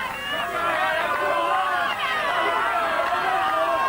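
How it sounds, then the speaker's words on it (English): A large crowd at an outdoor strongman competition at Alton Towers in 1999 makes a steady, continuous murmur and cheer, while a commentator talks over it. "It's a tremendous crowd here at Alton Towers."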